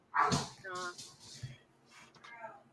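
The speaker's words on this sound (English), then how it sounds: "Dogs are singing for him." Dogs at a birthday gathering give a howling, yelping chorus of rising and falling whimpers and short yips, close and fairly loud, with stretches that sound almost like singing.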